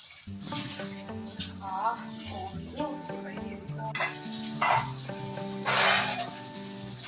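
Fried spices for a mutton curry sizzle in a pan, with bursts of hissing that rise and fall over steady background music.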